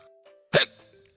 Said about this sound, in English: I hiccup.